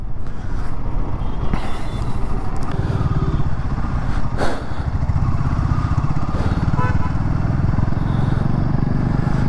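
A Royal Enfield Himalayan 450 motorcycle ridden through traffic toward a showroom, its engine rumbling loud and continuous, with wind noise and passing traffic around it and occasional sharp knocks.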